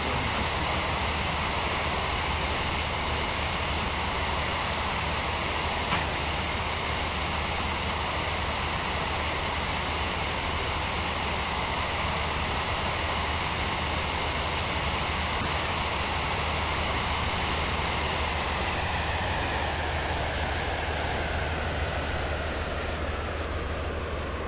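Train running in the video game Stepford County Railway, a steady broadband rumble of wheels and motion that holds at a constant level throughout, with no voices over it.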